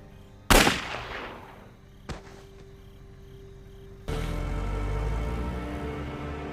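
Gunshots in a Secret Invasion episode set in the woods: a sharp, loud shot, then a second fainter crack, followed by a steady rumbling ambience.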